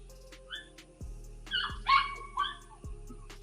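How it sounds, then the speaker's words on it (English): Several dogs bark and yip faintly in the background, with short scattered barks and whimpers coming from a distance over a quiet room. "Hear the dogs in the background?"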